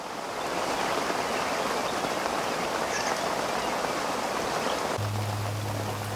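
Steady, even rain pours down through a forest canopy, a dense unbroken hiss of drops on leaves and ground that stays close and constant throughout, with no voices.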